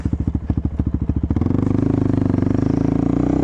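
Suzuki LT-R450 quad racer engine out in the snow, loping at a steady thumping idle before it revs up into a faster, continuous drone, close by.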